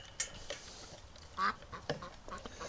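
A few faint, scattered quacks from ducks, including a limping hen recovering among the flock, short isolated calls with quiet gaps between them.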